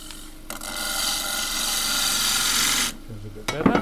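A 3/8 deep fluted bowl gouge cuts camphor laurel wood spinning on a lathe, giving a loud, close, continuous rasping shear for about two seconds before cutting off into brief knocks.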